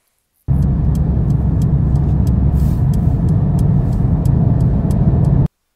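Steady, loud low rumble of a car being driven, heard from inside the cabin, with continuous road and engine noise and faint ticking clicks on top and no talking.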